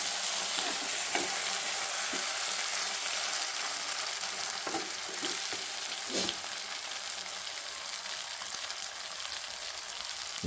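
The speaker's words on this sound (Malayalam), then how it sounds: "ലൈറ്റായിട്ടൊന്ന് മിക്സ് ആക്കുന്നു." Beef fry being lightly mixed in a pan after a pinch of pepper powder goes in, a steady close sizzle with soft scraping stirs scattered through, no voices.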